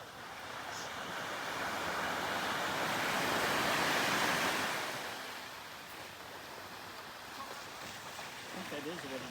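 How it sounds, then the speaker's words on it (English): Ocean ground swell breaking on the shore at high tide, a broad continuous roar of surf that swells to a peak and then eases into steady wash, with wind across the microphone. "That's called a ground swell."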